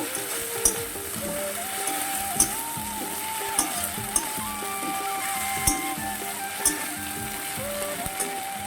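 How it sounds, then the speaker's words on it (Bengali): A ground ginger, cumin and garlic paste fries with onion in a pan, giving a steady close sizzle with occasional sharp clicks of stirring, while a tonal hum plays faintly in the background. "মশলাটা ভাজা ভাজা হয়ে এসছে"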